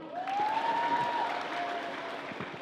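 Audience applause fills a hall, steady clapping from a crowd throughout, with a brief rising electronic whistle tone heard over it near the start.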